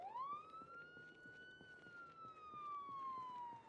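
A wailing siren in a zombie video game sweeps up and then slowly falls in a steady electronic tone, faint and unbroken, with light clicking noises underneath.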